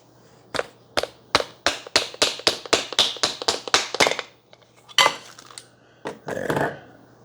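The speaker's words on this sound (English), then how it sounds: "you can pound that puck out" A used espresso puck is knocked out of the portafilter of a Chefman 6-in-1 espresso machine over a trash can, a rapid run of about a dozen sharp, close taps followed by a few scattered knocks and a short rattle.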